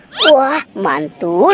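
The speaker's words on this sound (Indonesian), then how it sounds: "ini ada bebek angsa." Three loud, nasal duck quacks come in quick succession, close by, with a voice exclaiming between them.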